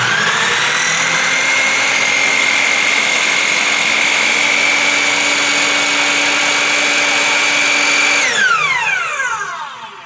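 A miter saw motor whirs loudly and steadily for about eight seconds while a blade runs, then the pitch drops sharply as the brake stops it, leaving a brief winding-down tail. No voices are heard.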